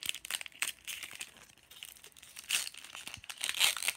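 Crinkly foil wrapper of a Pokémon card pack being torn open and crumpled up close, a steady run of sharp crackles and rips in bursts, fairly quiet, with no voices.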